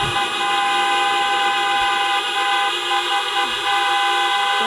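Car horns honk in a long, loud, sustained blare. Several horns overlap as a continuous tonal chorus that fills the whole stretch.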